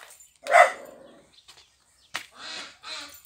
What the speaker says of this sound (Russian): И что ты гавкаешь?